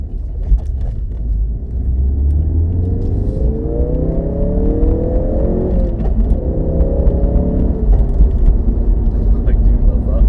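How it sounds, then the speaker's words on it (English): Ford Focus RS in sport mode, its engine rumbling steadily and rising in pitch as it revs, with scattered sharp exhaust pops and crackles over the drone, heard close and loud from start to finish. "Love that popping."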